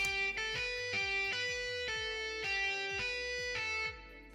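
A distorted pop punk guitar lead from Guitar Rig, widened with the Polyverse Wider plugin set to 100%. A quick phrase of bright, picked notes plays alone at steady moderate level before tailing off, with no talking.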